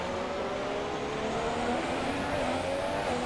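McLaren Formula 1 car in the racing game F1 2017, its engine a steady high-pitched whine with sustained tonal harmonics, loud and continuous throughout with no talk.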